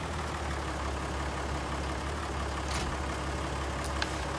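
A steady low engine drone from a medium-sized tractor in Farming Simulator 19, idling evenly with a constant rumble and a few faint brief hisses near the end, no talk over it.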